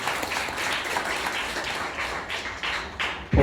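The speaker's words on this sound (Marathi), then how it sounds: "जोरदार टाळ्या देऊया" An audience at a local event gives the organisers a sustained round of applause, steady and moderately loud clapping from a crowd filling the whole stretch, with little talk.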